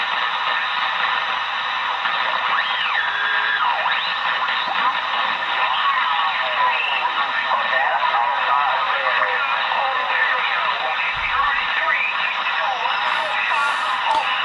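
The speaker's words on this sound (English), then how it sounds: "Do have a lot of interference here. QRM, as you can hear." A Siltronix 1011C radio hisses with steady QRM interference, a dense wash of static and warbling, whistling tones that runs unbroken and loud throughout, with no voice.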